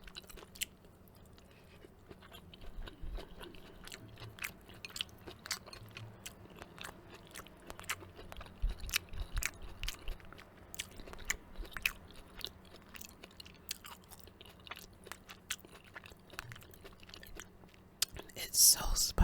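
Someone eats sweet potato curry with basmati rice close to the mic, with wet, soft chewing and occasional crunchy bites running steadily throughout, plus a few faint whispers and small clinks.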